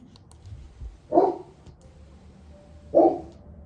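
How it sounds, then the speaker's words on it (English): Two short, sharp barks from a dog some distance away, spaced about two seconds apart, over a quiet background hum. "He's barking at the neighbor."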